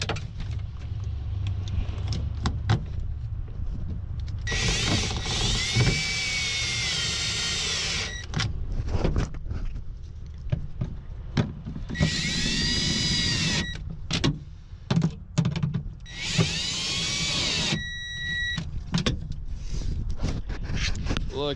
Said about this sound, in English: I love this drill, man.